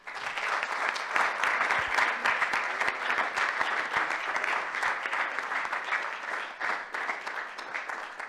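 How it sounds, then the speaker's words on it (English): Sustained, dense applause from an audience at a Smithsonian event honoring presenters Christine Pastorella and Cornel West, filling the room steadily for the full stretch before easing slightly at the end. "Again, another round of applause for them."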